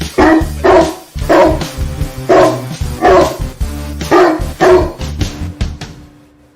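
A dog barking repeatedly and loudly up close, several sharp bow-wow barks in uneven bursts with short yips between them, played as a sound effect during a football preview show.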